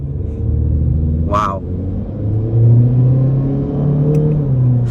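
A 2023 Honda Civic Sport Hatchback pulling away hard from a standstill, its engine droning and rising in a low rumble heard from inside the cabin, with a brief exclamation from a person partway through.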